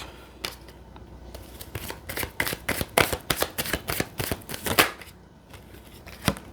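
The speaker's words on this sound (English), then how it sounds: "So I'm going to pull out more cards before I say anything." A deck of tarot cards being shuffled close by, a rapid run of crisp riffling flicks and papery snaps, steady for several seconds with brief pauses between bursts.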